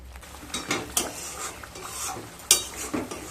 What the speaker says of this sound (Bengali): এবার মশলাগুলোকে ভালোভাবে কষিয়ে নিয়ে তারপর ফিরে আসছি